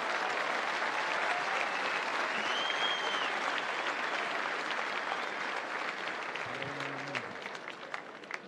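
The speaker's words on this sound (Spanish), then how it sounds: "brindémosle un fuerte y cariñoso aplauso" A crowd claps warmly at a national rodeo championship, a steady, fairly distant wash of applause that holds evenly and thins slightly near the end.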